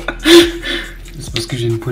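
Small frying pan on the stove being stirred, with metal utensil scrapes and clinks against the pan mixed with light sizzling and some background voice.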